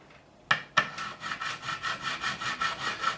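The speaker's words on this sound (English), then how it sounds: "It's a diamond file. Again, it has a groove, but it has diamond grits in there" A diamond file rasps back and forth across a fret on a Japanese-made Ibanez Prestige guitar. Two sharp strokes open it, then a quick, even series of close scraping passes follows.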